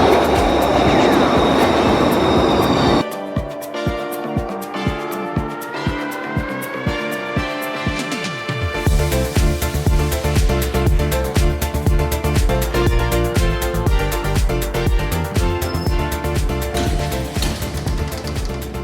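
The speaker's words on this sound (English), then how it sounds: "a ride on the Glasgow subway" A small Glasgow subway train rides the underground line, loud and rattling, its steady rumble broken by rhythmic clacks and whining tones as it speeds up and brakes.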